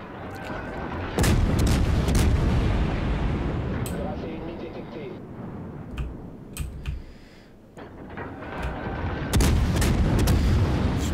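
Heavy naval gunfire from the French cruiser De Grasse in World of Warships, big booming salvos that open and close the stretch with rumbling shell noise and faint clicks between, a voice talking underneath.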